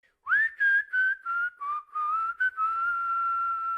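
Recorded human whistling in a music track, a clear, close melodic line of short separate notes that settles into one long sustained tone, with no other sounds around it.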